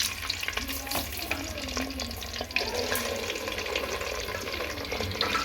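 Chicken pieces hit hot ghee in a pot with a close, crackling sizzle and stirring clatter, and a watery hiss runs underneath; no one speaks.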